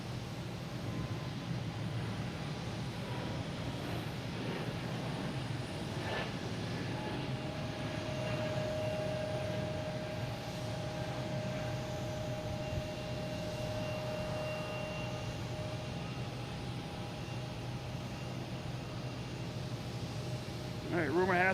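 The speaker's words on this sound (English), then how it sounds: "we have JetBlue taking off, heading to Reagan in A220" JetBlue Airbus A220 taking off from Boston Logan International Airport, a faint, steady jet engine rumble with a whining tone that holds, then rises near the end.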